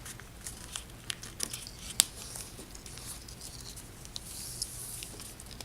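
Paper crinkles and rustles close by as it is folded repeatedly for snowflake art, with soft scattered crackles and one sharper crisp snap partway through.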